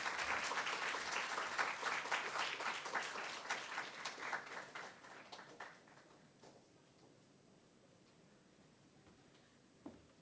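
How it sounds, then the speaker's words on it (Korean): A church congregation applauds to welcome a speaker, a dense burst of clapping that thins out and fades over several seconds into near quiet, with a single clap near the end. "우레와 같은 박수로 좀 환영해 주시면 감사하겠습니다"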